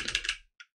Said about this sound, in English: I'm not sitting directly in front of my keyboard, so I'm trying to type at an angle here.